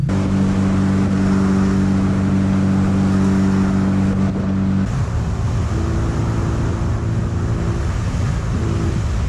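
Mazda MX-5 drift car engine idling lean with the lambda sensor unplugged, a loud, close, steady low rumble with a humming drone that shifts slightly partway through.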